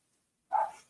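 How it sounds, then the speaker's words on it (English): A single short dog bark, fairly close and fairly loud, arrives suddenly after a second of near silence and fades quickly. "Even the dog is barking at it."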